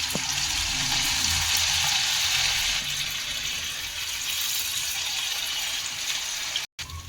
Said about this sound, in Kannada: ಈಗ ಒಂದೊಂದೇ ಬಿಟ್ಕೊಳ್ಳೋಣ ಎಣ್ಣೆ ಒಳಗೆ.